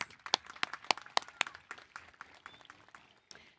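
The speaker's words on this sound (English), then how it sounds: "Let's give them a round of applause." Scattered clapping from the audience at a high school graduation, sharp separate claps from several people that thin out toward the end, with faint voices in the background.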